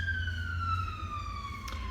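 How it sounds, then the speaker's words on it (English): One emergency vehicle siren wails outside, a steady tone that slowly falls in pitch as it passes. It sits over a low rumble of traffic with no talking. "the sirens outside are interrupting my podcast"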